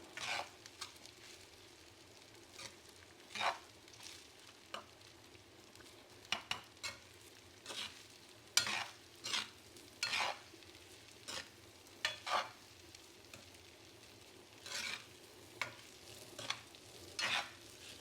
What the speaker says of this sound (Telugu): రైస్ అంతటికి పట్టేలాగా స్లోగా కలుపుకోవాలి.